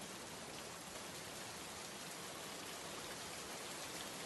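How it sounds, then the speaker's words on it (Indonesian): Soft, even rainfall, a dense steady patter with no voices, very quiet and constant throughout. "Hujan turun perlahan"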